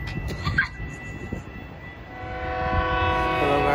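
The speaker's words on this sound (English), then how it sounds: "It's a cab car, oh my goodness." A commuter train passes at Galewood with its cab car leading. It gives a steady rumbling roll that swells louder, and sustained horn-like tones rise near the end.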